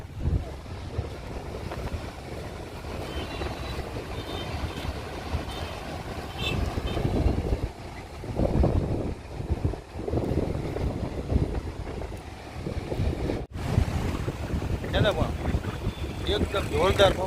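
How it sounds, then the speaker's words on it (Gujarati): Strong wind buffets the microphone at Madhavpur beach on the Gujarat coast, a loud continuous roar with gusts rising and falling, surf noise underneath, and a brief dropout near the end. "એકદમ જોરદાર પવન આવે છે અહીંયા, બરોબર. કેટલોક વિન્ડનો અવાજ આવે"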